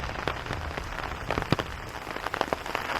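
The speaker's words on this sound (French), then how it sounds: "Là c'est de la grosse pluie quoi, avec des grosses gouttes." Heavy rain with big drops patters on surfaces at a park on Sado island, Japan, a steady dense hiss broken by distinct close drop impacts, with no voices.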